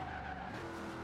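A 2010 Ford Crown Victoria Police Interceptor with 800 horsepower drifting, its tires giving a steady, fairly faint skidding squeal over a continuous engine drone throughout.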